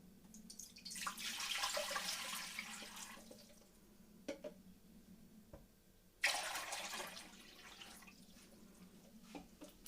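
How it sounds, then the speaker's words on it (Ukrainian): Water runs from a tap in two bursts, splashing into a pot, with quiet gaps and small clinks between. "у каструлю вливаємо воду"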